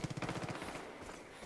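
A rapid burst of machine-gun fire in the video game Far Cry 5, loud and rhythmic for about half a second, then fading into echoing rumble.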